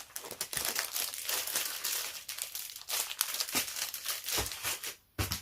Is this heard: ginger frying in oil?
no